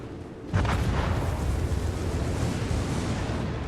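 Battleship secondary guns firing in a naval warship game, a Tier 6 Mutsu; a sudden loud boom lands after a brief low rumble, then a dense sustained roar of overlapping blasts and rumble carries on.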